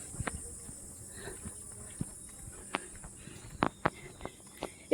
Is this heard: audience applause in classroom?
no